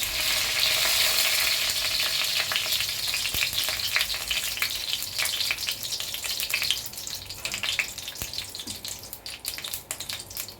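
Whole garam masala and bay leaves fry in hot oil with a steady, dense sizzle that fills the whole stretch, crackling and popping throughout and easing slightly toward the end, close and fairly loud.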